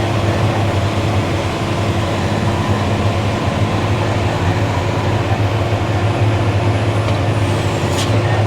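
Tractor engine running steadily at a low, constant drone while climbing a steep slope during Roundup spraying, with a faint hiss and no talk.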